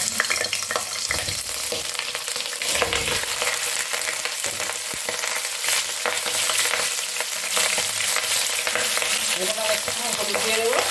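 Cauliflower florets, cut large and washed, hitting hot oil in a wok: a loud continuous sizzle and crackle with spattering pops and occasional stirring scrapes, close and steady throughout.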